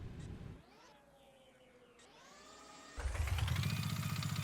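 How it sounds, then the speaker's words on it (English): Engine of a lever-based CVT vehicle in the game Gear Blocks, first a brief rumble, then a quiet whine rising in pitch, before a loud rough revving roar kicks in and holds to the end. "let's start the engine again"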